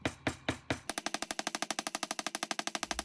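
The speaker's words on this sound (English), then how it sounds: "Now we just need to bang some wire." Rapid metallic banging on wire, starting with four slower heavy strikes and then breaking into a fast, even, machine-like rattle of sharp hits, loud and close.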